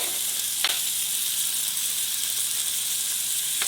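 Mushrooms, pepper and onion sizzling in a frying pan, a steady hiss with a sharp crackle burst near the start and another near the end.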